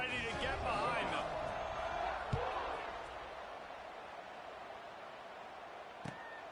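Stadium crowd at a Memphis versus Wake Forest college football game roaring and cheering at kickoff, a broad sustained wash of noise that is loudest at first and eases off, with a couple of brief knocks.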